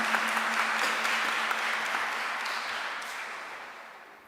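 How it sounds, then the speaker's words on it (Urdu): A church congregation at a Christmas Mass in an Urdu-language parish applauds together, a dense steady wash of clapping that fills the room and slowly tapers off, with a faint sustained tone underneath. "اس لیے مقدسہ مریم کے لیے بھی ایک دفعہ ضرور تالیاں بجائیں"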